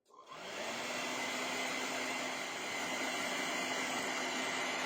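A hair dryer blasts air to dry paint on a hand-painted tropical Christmas card, switching on at once and holding a steady, loud, close whoosh alone for the rest of the clip.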